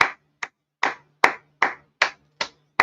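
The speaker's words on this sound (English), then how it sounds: "So if you was here through all that, give yourself a round of applause." Eight separate, slow hand claps from one person, spaced unevenly and close to the microphone, with silence between each clap and no talk.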